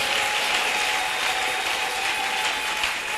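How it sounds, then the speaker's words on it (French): Congregation clapping hands for the Lord at a church service, a steady dense patter of many hands sustained throughout, fairly loud and without talk. "Can somebody clap his hand for the Lord?"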